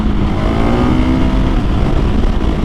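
Husqvarna 701 Supermoto single-cylinder motorcycle accelerating hard on a back road, with a quick shifter, its loud, close engine roaring steadily without pause for nearly three seconds.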